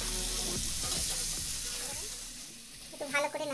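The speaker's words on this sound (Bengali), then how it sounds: "এরপরে আমি ছোলা সেদ্ধ গুলো ঢেলে দিলাম" Boiled chickpeas poured into mutton fat mince in a pan, a thump followed by hissing sizzle and scraping stirs, close, with bubbling at the end and no voices.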